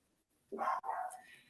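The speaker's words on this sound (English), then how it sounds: "I'm sorry, my dog's barking." A pet dog lets out one brief, muffled bark split into two quick parts, heard faintly indoors with nobody speaking.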